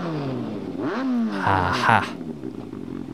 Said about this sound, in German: Was ist das für ein Geräusch? Ein Motor!